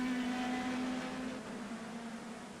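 A McLaren race car running on the Nürburgring, a steady engine drone with a sustained tonal whine that gently fades as the car pulls away.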